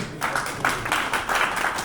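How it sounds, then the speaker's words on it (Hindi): An audience at a Hindu religious discourse in Vrindavan claps in a steady ragged patter of many hands, fairly close and even, with no talk over it. "तो एक बार पुनः जोरदार ताली से स्वागत अभिनंदन करें"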